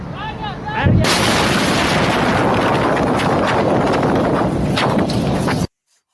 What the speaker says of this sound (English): that's a giant ass gas explosion or something